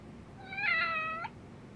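A single clear cat meow from the video game Lost Judgment, rising and then falling, over quiet game ambience.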